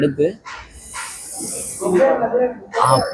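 Hot oil poured over biryani sizzles in a long hissing burst, with a voice talking before and after, late at night at a Puliyanthopu biryani spot.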